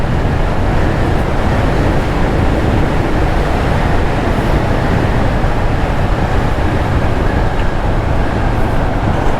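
A 1992 Honda GB500 TT cafe racer rides along, heard as steady loud broadband rushing of wind and road noise with an engine drone underneath, continuous and unbroken.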